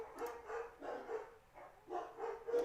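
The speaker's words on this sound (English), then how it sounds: "And then they're barking." Dogs bark in short repeated bursts, moderately close, in a quiet setting with no talking.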